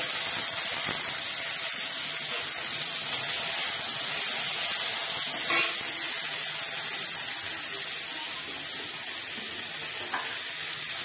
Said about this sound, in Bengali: টমেটোটা ফ্রাই করা হচ্ছে।